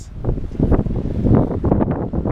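Strong wind buffets the microphone in a steady, heavy roar that swells and dips, with no voices, at a stone bridge in Adana.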